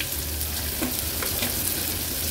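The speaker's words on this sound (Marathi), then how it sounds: "एक मीडियम साइजचा कांदा आहे, बारीक चिरून घेतलाय, तो ऍड करते" Finely chopped onion hits hot oil flavored with ginger and garlic, crackling in a dense, steady sizzle. A few soft stirring scrapes come through over the brief, close-up frying.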